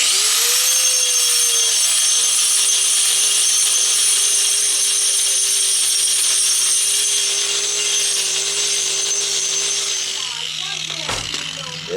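A power grinder cuts into a stone patio slab, a steady high-pitched whine with a droning motor tone running nearly the full length before cutting off near the end.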